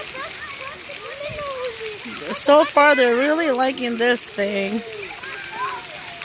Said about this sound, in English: A whole bunch of water fills up in those 2 buckets and pours on them.